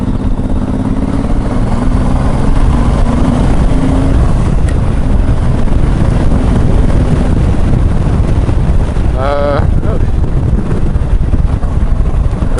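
A motorcycle with an 1800cc 52-degree V-twin engine droning steadily while being ridden, loud and continuous with heavy wind noise over the microphone throughout.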